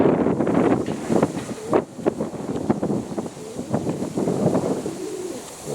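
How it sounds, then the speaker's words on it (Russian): Strong wind buffets the microphone in loud, uneven gusts where Baku pigeons fly, with faint bird sounds mixed into the roar. "Вот так вот голуби борются с ветром."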